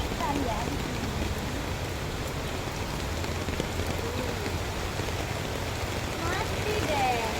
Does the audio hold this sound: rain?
yes